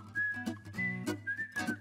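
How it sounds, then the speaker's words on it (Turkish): A pressure cooker on a kitchen stove gives off a steady, high whistling tone in several long stretches, with low hum and clatter from the kitchen beneath it. "Bu arada düdüklüğü de iyice kıs da patlamasın."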